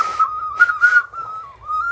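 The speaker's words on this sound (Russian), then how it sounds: "В Горном покупала такую штуку, свистульку." Small toy whistle bought as a souvenir, blown in a near, shrill steady tone with a few wavering breaks and breathy bursts, no talking.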